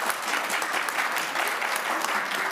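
Applause at a state legislative committee hearing, a dense, steady wash of many hands clapping throughout, moderately loud in a large room with no voices over it.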